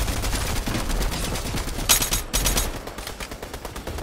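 Rapid automatic gunfire in a shooter video game, loud and close, bursts of sharp shots rattling over a continuous noisy backdrop with a brief lull midway before firing resumes.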